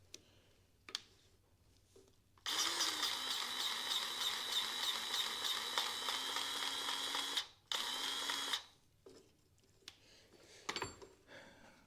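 A grease gun pumping grease into the grease point of a cheap Chinese rock hammer makes a loud, steady mechanical buzz lasting several seconds, broken by a brief pause before a short final burst, then quieter clicks.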